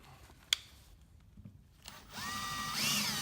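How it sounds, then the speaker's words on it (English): A power drill spins up and whines steadily into wood at the end, after a few quiet clicks and knocks. "So we're just going to drill away here."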